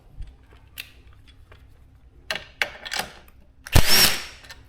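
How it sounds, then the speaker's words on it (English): Tools working a 17mm nut loose on the rear suspension bolt of a Suzuki GSX-S750 motorcycle, heard close up as scattered metallic clicks and scrapes, then a louder burst of ratcheting and rattling near the end. "got the 17mm nut off, very simple"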